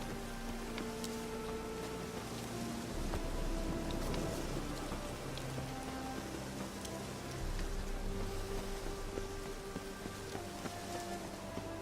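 Steady rain in the video game The Witcher 3: Wild Hunt, a continuous soft patter of drops on surfaces under a low droning background, even and unbroken throughout with no voices.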